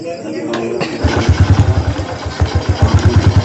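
A Honda Blade 110 motorcycle with an upgraded clutch housing fires up after brief starter noise, then settles into a close, rhythmic, loud idle with pulsing beats.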